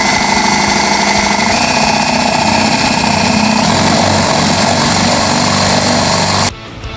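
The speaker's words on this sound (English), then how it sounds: "Now I just need to drill a hole to get my power under the trailer to my battery box." A power drill whines at high speed, loud and steady, as it bores a hole through a trailer, then cuts off abruptly near the end.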